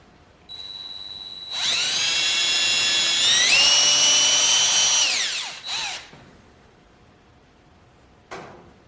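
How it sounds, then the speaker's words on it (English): A power drill fitted with a 1/4 inch bit bores through a tennis ball, whining steadily before its pitch rises and then falls away. It sounds close and loud, ending with a short spin-down and a brief final burst. "So I'm going to start by drilling a hole in each side of the tennis ball."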